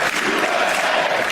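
A brief burst of crowd applause and cheering for athletes at a political gathering, steady and fairly loud throughout.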